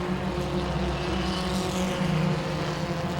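UCAR race cars roar around the dirt-slicked Langley Speedway, engines droning loudly and steadily as the pack slides through the turns, with a shifting pitch and no voices over it.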